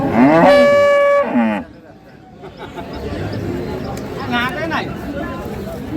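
A cow or calf moos loudly with a long harmonic call at a rural cattle market where dairy cows are sold with their calves, followed by market chatter and a second, shorter moo further off.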